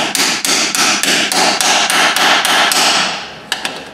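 A hammer strikes a 3/8-inch ratchet seated in the muddy differential fill plug of a Cadillac Escalade (Chevy Tahoe), with about a dozen sharp, loud metallic blows in quick regular rhythm, then two isolated taps.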